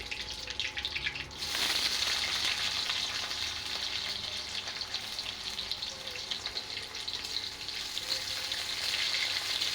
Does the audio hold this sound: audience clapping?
no